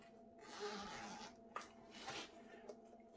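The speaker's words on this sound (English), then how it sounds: "Dual zippers." A dual-zipper cloth carrying case for a Holy Stone HS440 drone being unzipped, with broadband zipping rasps spread across a few seconds and a couple of sharp clicks from the pulls, close and fairly quiet.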